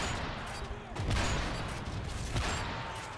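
Gunfire in Call of Duty Modern Warfare 3 during online play, a dense rattle of shots with bursts swelling around the middle and again near the end, mixed with game noise and some voice underneath.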